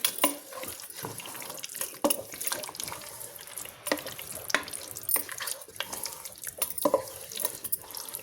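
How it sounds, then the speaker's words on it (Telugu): Raw chicken is stirred together with masala, salt and chili powder for a curry, making soft, wet squelching and scraping sounds in irregular bursts, close and fairly quiet. "ఇదంతా ఒకసారి బాగా కలుపుకుందామండి"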